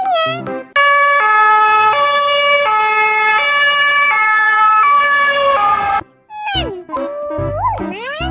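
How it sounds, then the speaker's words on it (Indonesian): A toy white-and-red ambulance gives off a loud electronic siren, steady two-tone wail stepping between pitches for about five seconds, then cuts to a brief warbling tail. "Lihat teman-teman, ada mobil ambulan warna putih kombinasi merah."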